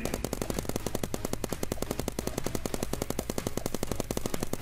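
Rapid-fire paintball guns in a Roblox match rattle in fast, even bursts, loud and continuous, like machine-gun fire with no pauses.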